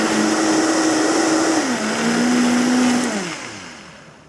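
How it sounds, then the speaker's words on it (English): A kitchen blender whirs through a Bloody Mary mixture with Worcestershire sauce, salt, pepper and horseradish, a loud close motor roar that shifts pitch midway, then winds down as it switches off. "And then we'll give this a blend."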